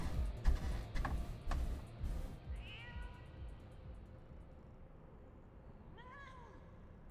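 Cat minion meowing in the game Final Fantasy XIV, a couple of short faint mewing calls heard after a burst of louder clattering and voice at the start, over a low steady background.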